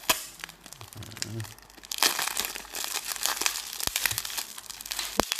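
A package sealed tightly with sticky adhesive tape being torn open, with crinkling, crackling and ripping bursts that swell and fade, a voice talking briefly near the start.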